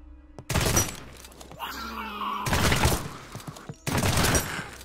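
Bursts of automatic gunfire in the video game Apex Legends, three loud sustained volleys separated by gaps filled with lighter clatter and game effects, close and punchy.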